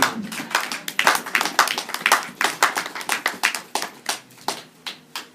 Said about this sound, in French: Est-ce qu'on peut applaudir pour cette parole?